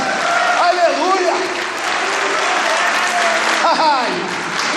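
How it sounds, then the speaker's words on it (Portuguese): A church congregation claps steadily throughout while a preacher's voice rises and falls over the applause, near and loud. "Pode aplaudir aí, igreja."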